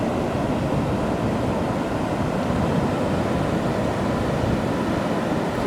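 Atlantic Ocean waves wash in at Marineland, Florida at night, a dense continuous roar of surf with no distinct breaks, steady and fairly loud, with no talk.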